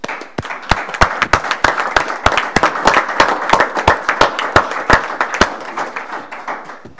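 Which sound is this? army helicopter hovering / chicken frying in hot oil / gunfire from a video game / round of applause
round of applause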